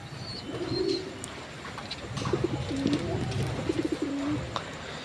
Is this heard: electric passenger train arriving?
no